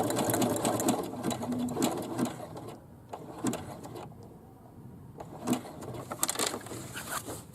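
A sewing machine labors through thick drawstring bag straps, stitching in uneven, slowed bursts with rapid needle clatter, brief pauses, and a low motor whir close by.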